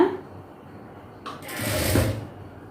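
Sewing machine stitching a blouse, a short whirring run of stitches rising and fading after a brief click, close and moderately loud with no talk.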